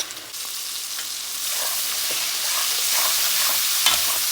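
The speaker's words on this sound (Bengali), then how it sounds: "পেঁয়াজ আর রসুনটা একটু ভাজা হবে" Onion and garlic frying in a pan before prawns go in, a steady bright sizzle that swells slightly with faint scraping of stirring, heard close and alone without any talking.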